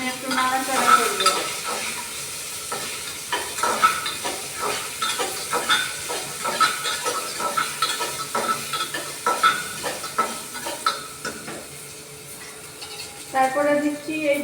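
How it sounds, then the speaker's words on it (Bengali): Potatoes being stirred in a frying pan for a borboti (long bean) and potato dish with mug dal bori, giving steady scraping and sizzling with spoon clatter throughout, fairly close and moderately loud. "আলু দিয়ে আমি একটু নাড়াচাড়া করব।"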